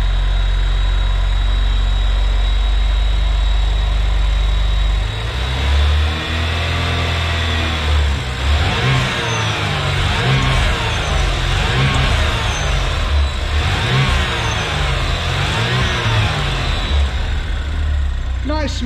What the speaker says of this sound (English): Motor is running very well, as you guys can hear.